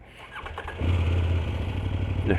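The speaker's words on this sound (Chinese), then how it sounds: "这个发动机的声音还是" A 2024 KOVE 800X adventure motorcycle engine revs up and settles into a loud, rough running drone with a deep low rumble, close by.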